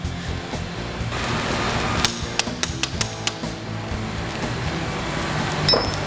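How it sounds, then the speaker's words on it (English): A rear shock mount bolt is tightened on a Suzuki V-Strom fitted with a Progressive Suspension 465 Series monoshock. A short run of crisp tool clicks sits over a steady background rumble. "So next we want to tighten up the rear shock mount bolt only."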